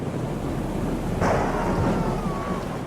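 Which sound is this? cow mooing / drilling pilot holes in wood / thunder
thunder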